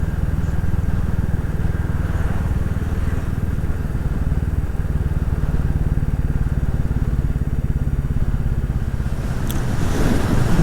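A motorcycle is ridden at a steady pace, its engine a loud, continuous rumbling drone mixed with wind buffeting, with no clear speech.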